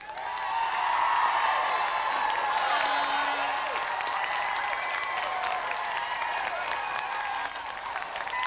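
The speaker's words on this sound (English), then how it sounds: "Let's have another round of applause for Dean Mortlock and Paul Mellerick." Studio audience on a TV game show applauding and cheering, a dense, steady wash of clapping with whoops that holds loud for about eight seconds before easing slightly.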